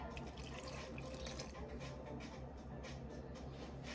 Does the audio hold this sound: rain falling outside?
no